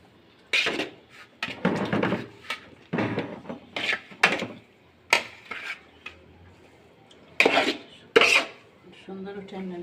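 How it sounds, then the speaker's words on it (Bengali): A spoon scrapes through biryani in a cooking pot, with about eight separate rasping, clattering strokes that come in uneven bursts, close and fairly loud, and short quiet gaps between them. "আবার একটু নাড়া দিয়ে দিচ্ছি নাহলে তো নিচে লেগে যাবে"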